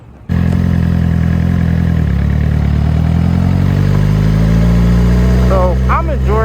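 Motorcycle engine idling up close, a loud steady low rumble that starts abruptly and holds evenly throughout, with brief higher tones near the end.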